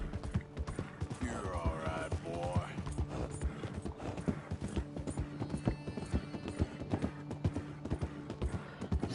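A horse canters in Red Dead Redemption 2, its hooves beating a steady, rolling clip-clop close by, with occasional breathy snorts and faint tack creaks over the rhythm.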